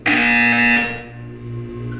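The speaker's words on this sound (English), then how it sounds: "You will hear a buzzer." Loud harsh buzzer in the video game Portal 2, a single blaring electronic tone that sounds for about a second, then fades into a lower humming drone with no speech.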